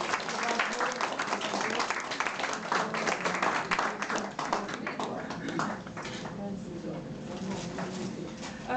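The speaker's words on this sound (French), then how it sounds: "Merci beaucoup, on va applaudir." An audience at a cultural association event in France applauds steadily after a painting and music presentation, a dense wash of clapping that stays fairly even before thinning slightly toward the end.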